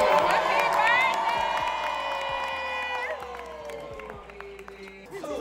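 A lively crowd cheers and claps for a birthday, loud and sustained, while a sung or held voice rings over the top and scattered shouts and claps continue as it fades slightly toward the end.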